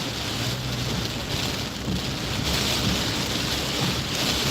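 Heavy rain pours steadily, a dense continuous hiss of drops hitting surfaces, loud and close with no voices.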